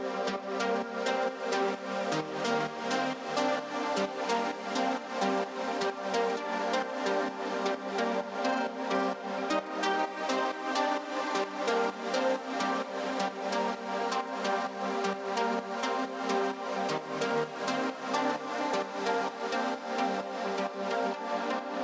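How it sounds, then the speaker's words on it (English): A bright, layered trance synth lead plays on its own, dense and sustained with a steady pulsing rhythm and no voices. "The most mainstream kind of trance synth"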